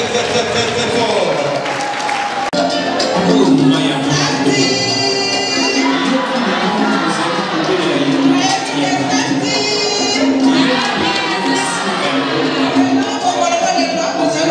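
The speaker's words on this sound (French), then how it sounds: "Merci l'applaudissez, applaudissez" A crowd applauds loudly and steadily at a live reggae event, dense clapping mixed with cheers and shouts, while a voice speaks over the noise.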